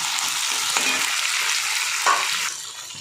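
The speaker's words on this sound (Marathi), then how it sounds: "टमाटरही चांगलं तळून घ्यायचं" Onion and tomato frying in a pan in a home kitchen: a continuous bright, hissing sizzle, close and loud, with a couple of brief stirring bumps and a slight drop near the end, with no voices.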